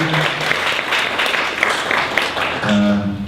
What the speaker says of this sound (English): let's close with one big round of applause for Wes.